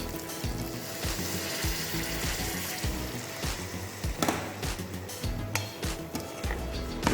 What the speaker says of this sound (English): In this we're gonna add a bit of water.